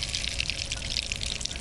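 Whisked eggs poured into bubbling butter in a hot pan, a continuous bright sizzle and hiss, close and steady with no talk.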